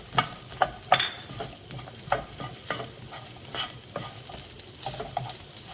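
Onions fry and get stirred in a pan for Indian saag paneer, with a spoon scraping and clacking in irregular strokes over a soft, steady sizzle, close and alone.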